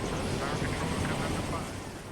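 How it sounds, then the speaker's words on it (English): A Black Hawk military helicopter produces a continuous, loud, steady engine and rotor roar that fills the whole short stretch without pause. "I also fly the Black Hawk helicopter"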